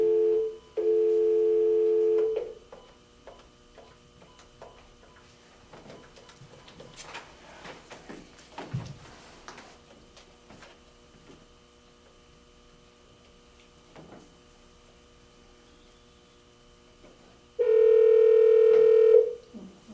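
An office desk telephone set to speakerphone: a steady dial tone, then a run of quiet keypad beeps with faint room noise, shuffling and a distant voice, then a loud tone returns near the end.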